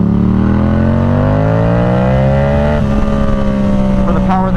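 A Yamaha R7 motorcycle engine pulls hard, its pitch climbing steadily through the revs before a quick shift and a further rise. The sound is loud and close, with wind noise and a faint voice underneath.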